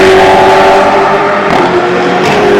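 Prototype race cars during a qualifying session at the Nevers Magny-Cours circuit, a loud continuous engine roar with a steady pitch that shifts slightly as the cars pass, no talk over it.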